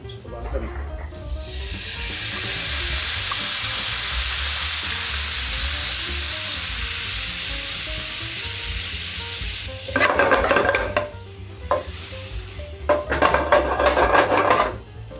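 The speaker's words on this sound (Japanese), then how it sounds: "それをちょっとこう落としながらバルサミコを煮詰めていって" Balsamic vinegar reducing in a frying pan that still holds grease and browned residue from chicken and tofu patties, with a loud, steady hiss while a utensil scrapes the bottom in bursts near the end.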